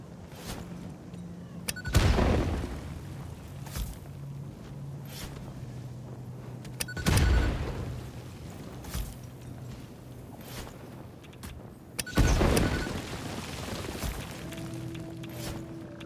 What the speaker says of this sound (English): We're just exploding everything right now.